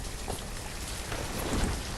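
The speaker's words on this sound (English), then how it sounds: "Hate the rain with a passion." Rain falls in the village-building video game Banished, a steady close hiss of drops on surfaces with faint distant thunder beneath and no talk.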